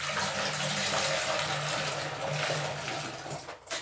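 A continuous, loud rush of water is poured or run over a mix of bleach and washing powder during bathroom cleaning, a steady splashing stream that dips briefly near the end.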